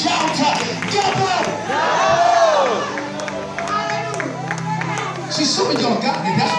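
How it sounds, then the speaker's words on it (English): Church congregation on their feet clapping and cheering, a loud crowd roar with scattered shouts and whoops, a preacher's voice calling over the noise. "That's why you're standing and you're clapping."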